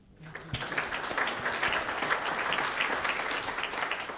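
Audience applause fills a hall after a panel on rabbinic service, starting abruptly and holding as a dense, steady wash of clapping for several seconds.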